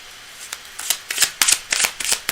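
Cards being shuffled in a series of crisp, riffling bursts, close and fairly loud, with no talking.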